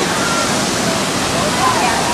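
Water rushes and splashes in a steady, loud roar heard from aboard the Wasserbahn water ride at the old Panoramapark amusement park, with a voice faintly over it.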